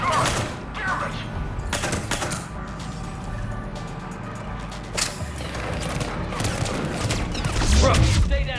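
Gunfire in the video game Mass Effect 3, Citadel DLC, with dense bursts and loud cracking shots over mechanical clatter, while someone speaks in the middle of the clip.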